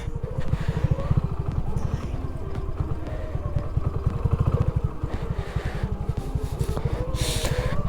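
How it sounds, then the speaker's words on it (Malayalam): Off-road vehicle creeping downhill in first gear with no clutch held, its engine giving a steady, rapid chugging throb that stays loud and close throughout, with light rattles over the rough ground. "താഴെ ഇറങ്ങുമ്പോൾ വലിയ പേടിയൊന്നും വേണ്ട ഇതുപോലെ ഫസ്റ്റിലിട്ട് ക്ലച്ച് പിടിക്കാതെ ഇങ്ങനെ പോയാൽ തന്നെ സെറ്റാണ്"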